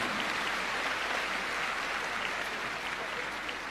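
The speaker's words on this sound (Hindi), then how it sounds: "जोरदार तालियों से आइए सहभागी बने।" Loud, continuous applause at a Delhi government schools ceremony honouring students who qualified for JEE and NEET, a dense unbroken wash of clapping throughout.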